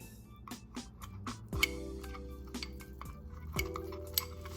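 A spoon stirs an orange peel powder face pack in a small bowl, tapping and scraping against the sides in a quick irregular rhythm, with a few louder clinks and no voices.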